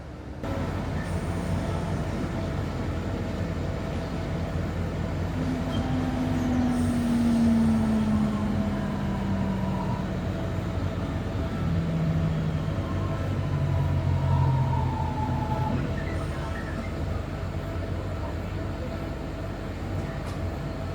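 An old Northern train runs on the Blackpool to Manchester Airport line, heard from on board. A constant low rumble of wheels and motor carries faint squealing tones that drift in pitch, with no talking.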